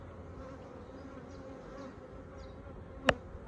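Honey bees buzz softly and steadily around a Flow Hive 2 in a rural valley apiary, a faint continuous hum with a brief sharp click near the end.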